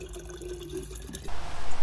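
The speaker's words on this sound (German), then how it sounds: "Dann können wir den hier hinstellen, können da Wasser zapfen." Water running from a canister tap inside a VW Caddy 4 mini camper, a faint trickle that swells into a louder, steady gush of filling liquid near the end, with no talking.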